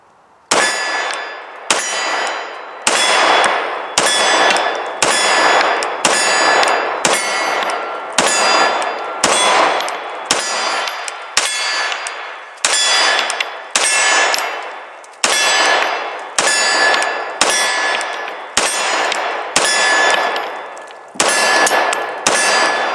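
Handgun fired at about 15 yards on a range, a magazine emptied in roughly sixteen sharp, loud reports spaced a second or so apart, each with a brief ringing tail, with no talk.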